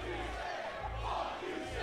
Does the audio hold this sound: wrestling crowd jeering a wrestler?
yes